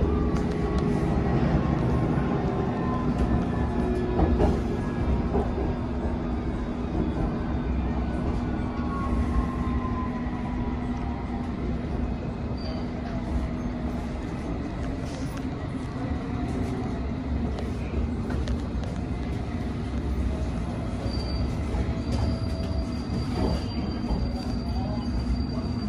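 A London Underground Metropolitan Line train runs non-stop between Wembley Park and Finchley Road, heard from inside as a steady, close rumble of wheels and motors with rattling carriage noise that holds for the whole stretch.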